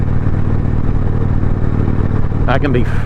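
A motorcycle engine drones steadily and loudly up close with a low rumble, and a voice breaks in near the end.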